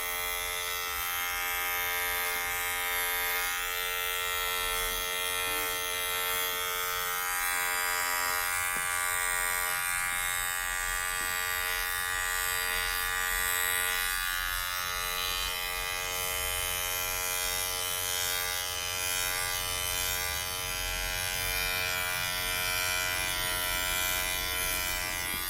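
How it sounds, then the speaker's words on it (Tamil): A Lifelong multi trimmer with its comb attachment fitted buzzes steadily and continuously while trimming hair, an even close-up electric hum with no breaks and no talking. "இந்த கோம்பு அட்டாச்மெண்ட் போட்டு நமக்கு எப்படி இருக்குது அப்படிங்கிறதையும் பார்த்துருவோம்."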